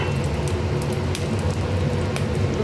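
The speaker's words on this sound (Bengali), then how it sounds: "গোটা গরম মশলা ফোড়ন দিলাম, 2 এলাচ, 2 লবঙ্গ, 1টা ছোটো দারচিনি" Whole garam masala spices, cardamom, cloves and a small cinnamon stick, sizzling in hot ghee and oil, a steady close crackle with faint pops throughout.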